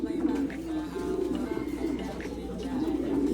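Racing pigeons cooing close by in a loft, a continuous layered murmur of low throaty coos with soft rustling and faint background noise.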